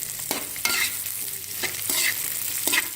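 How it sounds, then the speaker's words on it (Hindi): Cubed onion and capsicum fry in a pan for chicken jalfrezi, a close, continuous sizzle broken by several rhythmic stirring scrapes, with no speech. "मैं अपनी शिमला मिर्च डाल के इन्हें 2 से 3 मिनट के लिए फ्राई करके निकाल के रख"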